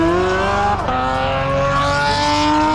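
An Audi A4 drift car engine holds a loud, steady drone at full throttle, its pitch dipping briefly and then climbing again as the revs build.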